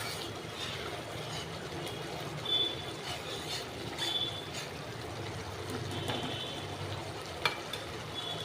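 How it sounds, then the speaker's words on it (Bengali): Fish curry gravy bubbles and simmers in a wok, a steady low sizzling and popping bed of sound with occasional stirring clinks, close and continuous with no talk. "মশলাটা কেমন ফুটছে দেখো"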